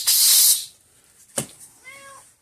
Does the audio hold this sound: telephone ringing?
no